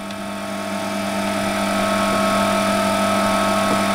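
A metal lathe machines a faced-off surface, producing a steady tonal hum with a high ringing whine that holds constant and slightly swells over a few seconds, close by and without voices.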